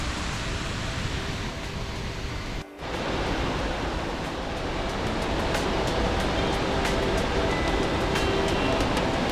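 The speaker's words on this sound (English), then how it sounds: "Skogafoss is one of Iceland's biggest and most beautiful waterfalls" Skogafoss, an 82-foot-wide waterfall in Iceland dropping 197 feet, roars as a steady broadband rush throughout, loud and continuous apart from one brief dip.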